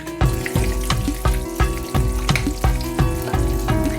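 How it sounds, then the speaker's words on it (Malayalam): Ingredients crackle and sizzle in hot ghee in a pan on a cooking show, a dense, continuous frying hiss with regular rhythmic pulses and a tonal background running throughout. "നമ്മുടെ ചട്ടിയും നെയ്യും ഒക്കെ ചൂടായിട്ട് ഞാനിപ്പോൾ നെയ്യ് കുറച്ചിങ്ങനെ ഒഴിക്കട്ടോ"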